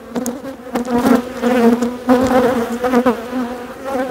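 Honeybees buzzing at an open hive during swarm making on the Mediterranean coast, a loud close droning hum that swells and fades as bees pass near, with no talk.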